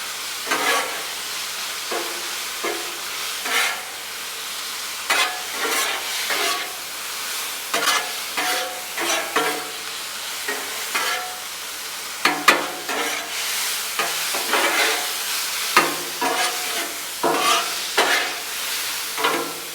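Al pastor meat sizzling on a hot Blackstone griddle while a spatula scrapes and pushes it around in repeated, irregular strokes over a constant hiss, close and fairly loud with no talking.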